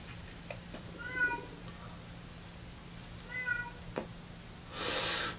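A female house cat meows twice, two short clear calls a couple of seconds apart, close by indoors under a steady low hum, followed by a brief burst of broadband noise.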